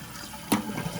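A Kohler toilet flushes with a sudden burst of rushing water that starts abruptly midway and continues as a steady gurgling fill, close by and moderately loud.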